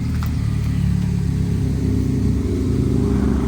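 Rebuilt Nissan 240SX drift car engine held at a steady, loud drone while the clutch is slipped, a continuous low rumble with slight wavering in pitch throughout.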